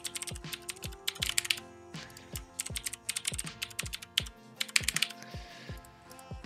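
Rapid, uneven keystrokes tapping on a computer keyboard as a password is entered, with a dense close clatter of individual key presses and occasional heavier thumps, no voices.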